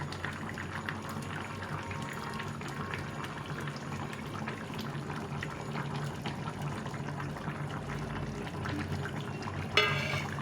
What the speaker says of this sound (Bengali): ঝোলটা ফুটে গেছে এখন মাছটা দিয়ে দেবো